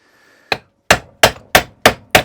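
A hammer taps a roller bearing into a Kaaz Lawnflight 553 Pro lawnmower: one sharp blow, then five evenly spaced, loud metallic knocks in quick succession, close up with no talk.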